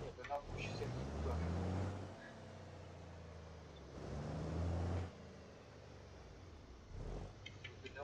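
Truck driving in the physics driving game BeamNG.drive, a low engine drone that swells twice into louder throaty bursts and settles back to a steady hum, with a voice heard over it.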